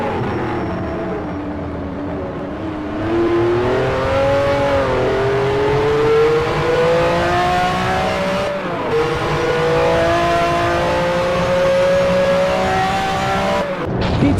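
A Ferrari 512 BBLM race car in a sim-racing historic sportscar event at Road Atlanta, its engine holding a loud, continuous howl that rises and falls through gear changes, with two brief dropouts between runs.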